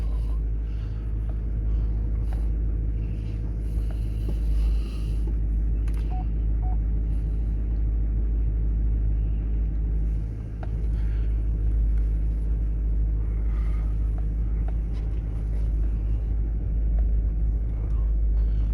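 A 2012 GMC Denali HD diesel pickup with 139,000 miles rolls along with a steady low engine rumble that holds loud and even throughout, with no talking.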